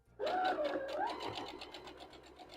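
A sewing machine stitches fabric in one steady, rapid run of needle strokes, fairly quiet and close, with a soft mechanical hum underneath.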